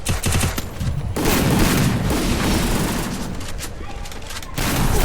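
Grenade blasts and gunfire from a Free Fire mobile battle royale match, loud and dense, with bursts of booming explosions and rapid shots filling the whole stretch.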